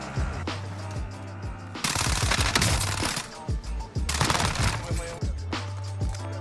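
A QBZ assault rifle fires several loud, close automatic bursts in a shooter video game, each rapid string of shots separated by brief pauses.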